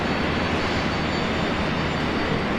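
Airliner arriving at Brisbane Airport on flight 145 from Auckland, New Zealand, its jet engines giving a loud, steady roar that fills the whole moment without letting up.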